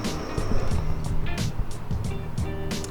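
A 10th generation Honda Civic with an aftermarket exhaust with chrome tips rumbles steadily at close range, its low exhaust note carrying a few short blips and light throttle pulses throughout.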